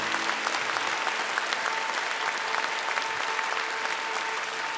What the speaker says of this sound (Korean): 다시 한번 축복과 감사의 마음을 담아 큰 박수를 보내주시기 바랍니다